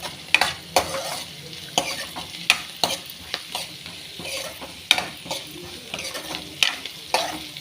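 Onions frying in oil with asafoetida, a steady crackling sizzle broken by repeated scraping stirs of a spoon against the pan, close and fairly loud, with no voices.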